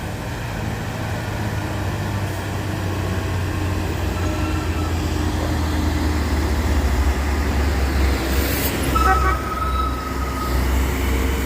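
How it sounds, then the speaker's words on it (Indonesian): Heavy trucks, including a Fuso, grinding up a steep hill with a deep, continuous engine drone and rumble, loud and close, with a brief hiss or squeal of air brakes near the end. "Ada truk pantat merah dengan truk coklat."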